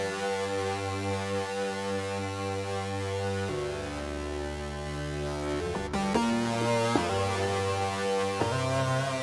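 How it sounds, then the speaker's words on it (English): A synthesizer patch designed to sound like a guitar plays sustained, harmonically rich tones that shift through several pitch changes. It is steady and fairly loud, and no one speaks over it. "That's a guitar sound."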